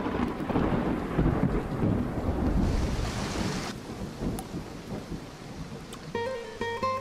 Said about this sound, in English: as a massive storm approaches,